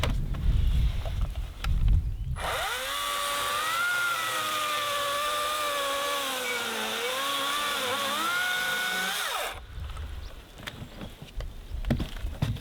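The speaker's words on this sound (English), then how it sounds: "I do love this saw" A handy saw without an engine cuts a wooden fence post for a post and rail fence. Its steady motor whine sags and rises in pitch under load for about seven seconds, then stops abruptly against outdoor background noise.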